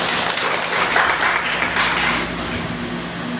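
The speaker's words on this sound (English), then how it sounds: "Let's give God a clap of praise." A church congregation claps in praise during a sermon, a dense, steady wash of hand claps that stays even and fairly loud throughout before easing slightly at the end.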